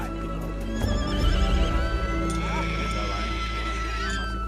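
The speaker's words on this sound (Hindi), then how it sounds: "ठाकुर को एक घोड़ी की दर्द भरी आवाज सुनाई दी" A mare cries out in distress with loud neighing whinnies over a steady low rumble, with hoof clatter and other horse sounds mixed in throughout.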